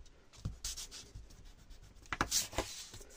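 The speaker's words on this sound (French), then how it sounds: "ici on peut gommer" An eraser rubbing out pencil marks on a paper pop-up card, short bursts of close, dry scrubbing strokes with brief pauses between them, no talk.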